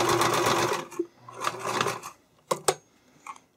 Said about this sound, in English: if you sew spandex normally, like just a normal